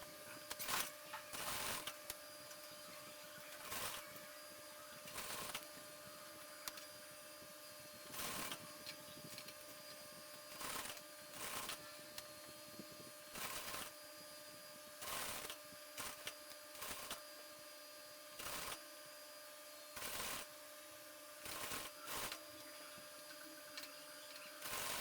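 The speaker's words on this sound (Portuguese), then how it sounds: "E vamos agora costurar, unindo a saia com o cos" A sewing machine joining a pleated Oxford skirt to its waistband with a one-centimetre seam allowance: short bursts of fast, buzzing stitching recur every second or two in a quiet room, separated by pauses as the fabric is adjusted.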